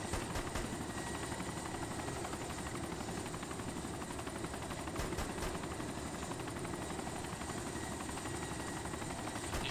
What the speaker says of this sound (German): der Heli dreht sich von alleine immer irgendwie nach rechts